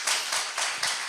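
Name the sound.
audience applause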